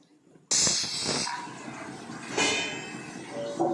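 A pressure cooker cooking pongal suddenly lets off a loud, sustained hiss of steam that surges and eases, flaring again briefly near the end.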